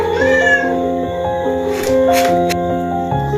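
A female cat meows repeatedly in a long, drawn-out, plaintive cry during a scuffle with a male cat, loud and close with no talk.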